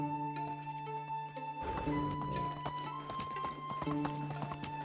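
Horse galloping in the video game Medieval Dynasty, quick rhythmic clip-clop hoofbeats close up with a brief whinny, over a soft steady game music background.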